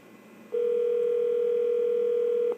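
A steady electronic telephone ringing tone during a call transfer starts after a faint hum and holds at one pitch for about two seconds, then cuts off.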